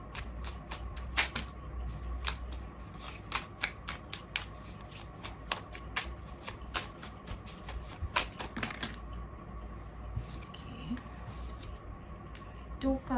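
Tarot cards being shuffled and handled, a steady run of crisp riffling flicks and soft slaps close by, with brief pauses and no talk.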